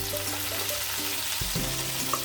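Fried cauliflower sizzling in hot oil in a pan as spices go in for cauliflower rezala, a loud close crackle with a sudden burst of spitting midway and faint stirring, no talk.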